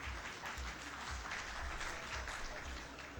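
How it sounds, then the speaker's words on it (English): Audience at an ICAP Golden Jubilee conference applauding a speaker invited on stage, steady dense clapping filling the room at even loudness throughout, with no talking over it. "Please give him a big round of applause"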